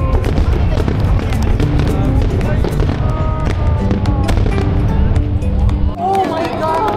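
Fireworks at a Japanese display near Kamakura, with dense overlapping bursts and crackles over a continuous crowd murmur, loud throughout; people talk and react in the background.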